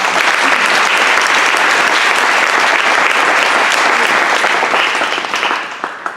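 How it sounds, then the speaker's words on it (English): Loud, dense applause from a large audience, sustained steadily and tapering slightly at the end. "Round of applause for both of these worthwhile organizations"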